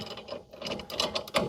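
Ratchet tightening a lower control arm bolt on a 2011 Chevy Malibu, with quick close clicking pawl sounds in short bursts, no speech.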